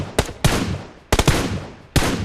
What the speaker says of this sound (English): Tap left fire button to shoot.